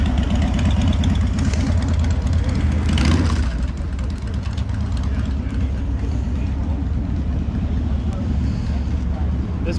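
A motorcycle engine idles loudly and close by at a car show, a deep continuous rumble with a brief rev near the start, under faint background bustle.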